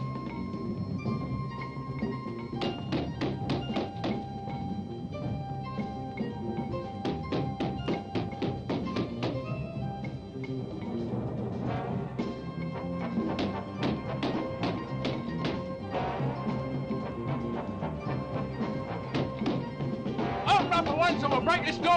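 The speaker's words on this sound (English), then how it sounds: "So we'll break this door down." Police pound and batter a door, trying to break it down: heavy repeated thuds and crashing blows in irregular bursts, loud and close, with shouting voices over the impacts.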